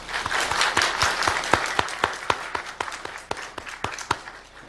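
Steady applause from a church congregation, many hands clapping together with sharp individual claps standing out, moderately loud and fading slightly toward the end.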